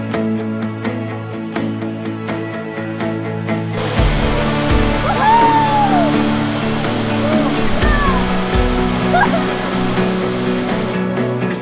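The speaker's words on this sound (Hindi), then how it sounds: "ये जो जाइगैंटिक वाटरफॉल अपने सामने देख रहे हो, यही है हमारा पैराडाइज फॉल्स" A gigantic waterfall, Paradise Falls in the Himalayas, roars as a steady broadband rush that swells abruptly and stays loud, with a few faint voices calling out over the water.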